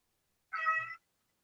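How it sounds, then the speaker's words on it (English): A house cat gives a single clear meow lasting about half a second, close and alone against silence. "This is Gypsy the cat"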